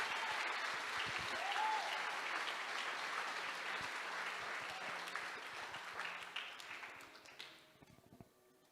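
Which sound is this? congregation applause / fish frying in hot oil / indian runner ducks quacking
congregation applause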